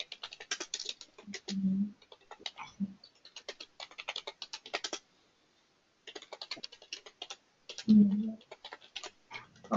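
Quick bursts of typing on a computer keyboard as SAS code is entered, soft clicks in uneven runs with a short pause, and a voice murmuring briefly in between.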